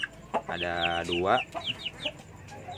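Newly hatched chicks and adult chickens cluck and peep close by in a series of short, uneven calls, while a person speaks briefly over them.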